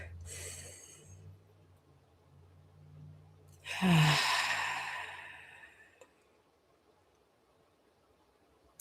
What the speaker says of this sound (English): let's take some breaths, okay? Breath in through your nose